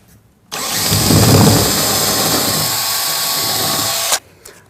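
A power drill with a 5/8-inch bit drills holes for a track lighting install, whirring loudly and steadily for about four seconds, bogging slightly as it bites in, then stops abruptly.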